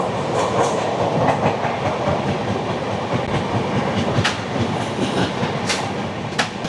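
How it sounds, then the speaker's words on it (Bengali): The Mysore–Howrah Superfast Express at platform 6 of Kharagpur Junction, with a loud, close rhythmic clickety-clack of wheels over rail joints and a broad rumbling roar, punctuated by sharp metallic clanks. "এই মুহূর্তে সে পৌঁছালো পশ্চিমবঙ্গের তার প্রথম স্টেশন এই যাত্রাপথের খড়গপুর জংশনের 6 নম্বর প্ল্যাটফর্ম।"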